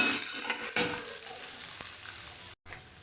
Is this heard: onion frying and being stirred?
yes